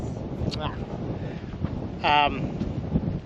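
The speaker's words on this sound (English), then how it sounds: "having a nice blustery windy day" Gusty wind buffets the microphone in a constant rough rumble outdoors at Coober Pedy, Australia, with a couple of brief voice fragments heard through it.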